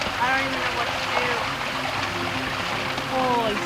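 Floodwater streams and gurgles through a soaked survival shelter in the wilderness, a steady close rush of water with splashy trickles throughout and a few brief squeaky tones near the start and end.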